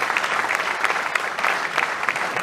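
Steady applause from an audience at a sports awards evening, dense clapping throughout with no pauses, fairly loud and close.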